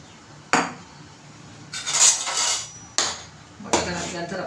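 A pan holds potato for sabudana batata papad while a utensil clatters and scrapes against it in four distinct bursts, the stirring strokes separated by quieter gaps, with no one speaking.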